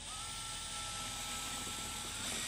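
A drill bores holes for pinball ramp brackets: a continuous high-pitched motor whine, steady and fairly close but quiet, holding one tone throughout with no talking.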